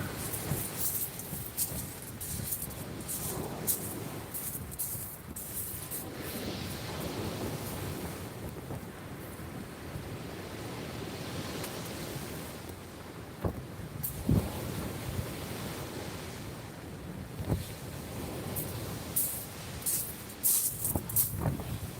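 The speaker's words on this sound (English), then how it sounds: "that wind's brutal though" Strong wind buffets the microphone on a shoreline at night during fishing, a continuous rough roar with gusting surges and surf washing in underneath, no voices.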